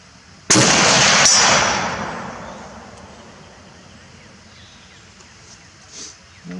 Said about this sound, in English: Let's shoot one more just to confirm.